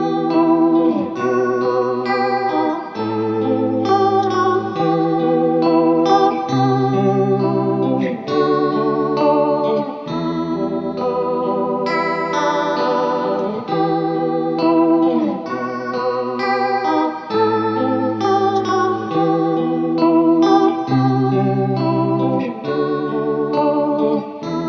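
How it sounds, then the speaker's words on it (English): Electric guitar played through a Benson Delay pedal with the LFO speed turned way up, giving a shimmering chorus-like warble over steady picked chords and melodic notes, loud and continuous. "with the LFO speed way up, it's like a totally legit chorus effect"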